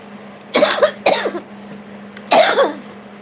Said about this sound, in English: And I had breathed in mold. That's why I cough.